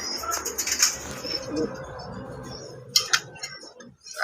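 Fancy pigeons, including red Rajgolla birds, in a large loft, with soft cooing and bursts of wing flapping nearby, along with occasional chirps.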